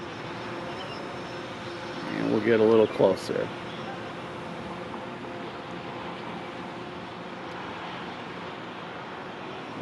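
A Phantom 4 Pro quadcopter drone fitted with Master Screw propellers hovers nearby, its steady whirring hum running throughout, with someone speaking briefly over it.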